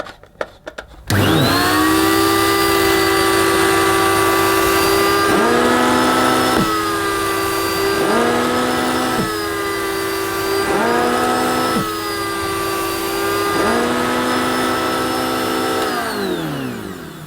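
A Filter Queen Majestic Triple Crown canister vacuum cleaner starts with a rising whine and runs loudly up close, its high motor tone dipping and recovering several times as airflow changes, then winding down at the end.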